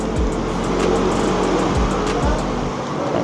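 A Honda Beat FI fuel-injected scooter with a recurring sputtering fault, its engine held at high revs in a steady, loud, close drone with a few brief dips.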